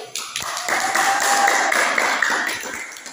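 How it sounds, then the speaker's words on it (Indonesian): A junior high classroom claps for a student group after a lesson on the five daily prayers, a full burst of applause that swells, holds, then tapers off. "Tepuk tangan untuk kelompok 1."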